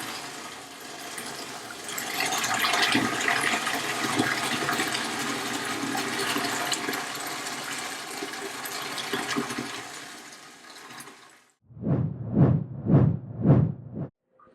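A Kent bathroom water softener drains during regeneration, with water rushing steadily for about eleven seconds before cutting off. Four short, rhythmic whooshing surges follow.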